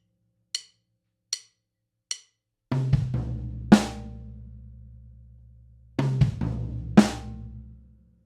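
A drum kit plays a groove: three sharp isolated hits, then a bass drum, a ghosted floor tom and syncopated backbeat hits with ringing decays, the two-part figure repeating once, played close and clean.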